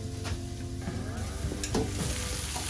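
Burgers on a Blackstone griddle: a steady close sizzle of patties cooking, with a couple of spatula knocks and scrapes against the flat top and some faint tonal background sound.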